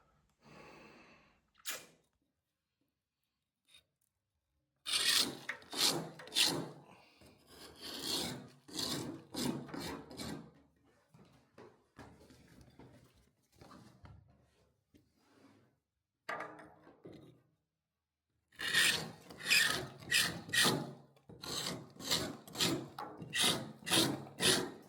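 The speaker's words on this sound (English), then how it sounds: "Start raking some old filler out." Old filler is scraped and raked out of a wall in short, rasping strokes, grouped in bursts with quiet pauses between, close and alone.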